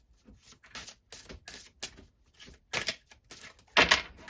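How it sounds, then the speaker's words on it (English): Irregular papery riffling and soft slaps of tarot cards being shuffled, in quick uneven bursts with brief pauses, close and fairly quiet. "Kind of getting a little crazy with the shuffling here"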